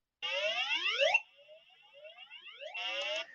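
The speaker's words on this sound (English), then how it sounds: "that's just beeping." Loud electronic beeps from a small speaker driven by an H-bridge with PWM on a Xiao board, sweeping tones with rich harmonics, a softer middle stretch, then a strong beep again.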